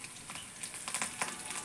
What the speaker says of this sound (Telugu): తాలింపు కూడా ఎగుతుంది.